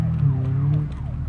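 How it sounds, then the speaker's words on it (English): Police and ambulance sirens wail together in the BeamNG.drive driving game, steady and loud with overlapping rising and falling tones over a low engine drone, no talking. "Sirens."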